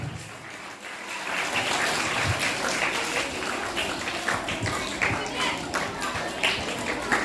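An audience at a teachers' award ceremony applauds in sustained, dense clapping that holds steady for several seconds, moderately loud and slightly distant, with a voice audible underneath.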